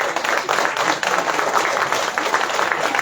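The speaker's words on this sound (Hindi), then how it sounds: "जोरदार तालियां।" Loud applause from a crowd at a ceremony honouring women banking correspondents at the Indira Gandhi Pratishthan in Lucknow, vigorous close clapping that swells and dips slightly but continues throughout.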